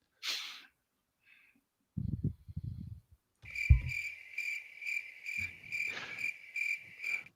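Steady, high-pitched chirping of crickets pulsing in a regular rhythm, with a few soft breaths and a snort-like noise beneath.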